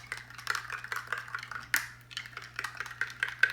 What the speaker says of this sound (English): stir this yeast up